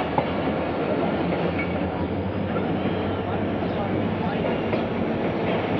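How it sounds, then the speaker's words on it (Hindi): Train rolling slowly on Karachi Circular Railway tracks, a steady dense rumble with faint rattling, close and constant throughout, with no distinct speech. "ट्रेन जो है वो बिल्कुल ही स्लो हो जाती है रुकने के करीब।"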